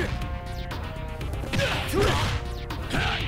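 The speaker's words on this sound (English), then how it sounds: "Or you could go into shatter strike." A shatter strike attack in the fighting game King of Fighters XV lands as a sharp crash and thwack with whooshing effects over busy game sound, a couple of hits in quick succession.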